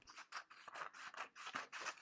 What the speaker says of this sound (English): I'm going to grab my scissors, and I am simply going to cut